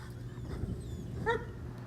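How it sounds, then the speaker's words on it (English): A dog gives a single faint, distant yip or bark in a quiet outdoor scene after spring rain, set against a soft low background rumble. "the sound of dogs barking in the distance"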